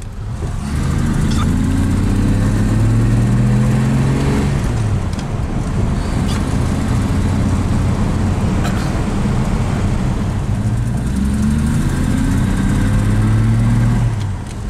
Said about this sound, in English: So you just let the clutch out, let the transmission spin a little bit